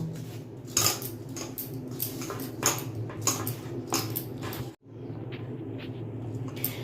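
Hands mixing drumstick flower fritter batter in a bowl, a series of close wet squishes and light clinks against the dish, irregular and fairly soft, with no talking.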